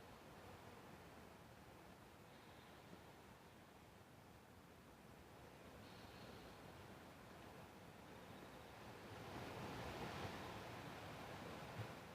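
Ocean surf roaring onto the shore near a seaside home, a steady broad wash of breaking waves that swells louder toward the end, with no voices.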